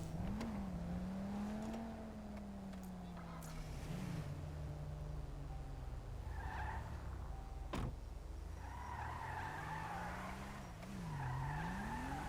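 A stolen car in a video game revs and skids, engine tones sliding up and down with sharp tire squeals and bursts of screeching through the middle and end, steady and fairly close, with no talk.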